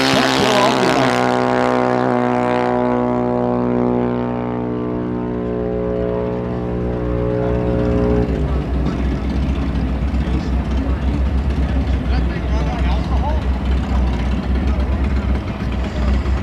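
Junior dragsters powered by 5 horsepower Briggs and Stratton engines race at a drag strip, their small engines droning loudly together before the steady pitched hum drops away into rumbling crowd and track noise.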